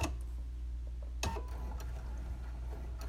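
A sewing machine runs slowly through a long basting stitch at a quarter-inch seam on a pansy garden quilt, giving a steady low mechanical hum with soft repeated ticking, close and continuous, one brief clunk partway through.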